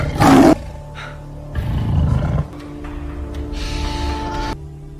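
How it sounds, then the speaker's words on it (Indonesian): A hungry lion's roar rumbles loud and close. A sharp burst comes first, then a long, deep, sustained roar over a steady background hum. "disusul dengan aungan singa yang kelaparan"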